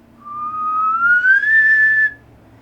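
A voice whistles a rising chirp that imitates a heart chirp. It starts low and slow, glides steadily higher, holds near the top and then stops abruptly. The whistle is clear and close with no talk.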